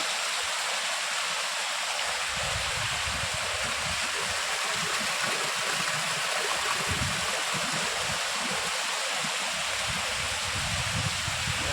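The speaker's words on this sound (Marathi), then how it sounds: "आमच्याकडे हे बघा जोरदार पाऊस इलो" Heavy first monsoon rain pours steadily in the Konkan region, a dense, continuous roar of falling water that stays loud and close throughout with no voices.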